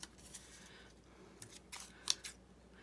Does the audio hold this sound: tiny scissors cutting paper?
yes